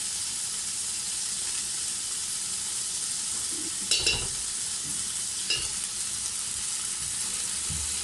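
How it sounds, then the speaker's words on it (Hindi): Boiled chickpeas and a few spoonfuls of yogurt fry in a pot with a broad, even hiss, joined by two brief stirring scrapes, close and moderately quiet, with no talking. "और इसे अच्छी तरीके से भून लेंगे।"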